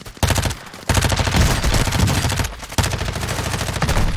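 Rapid automatic gunfire in Call of Duty Warzone 2 rattles in loud, dense bursts, pausing briefly twice before resuming close and continuous.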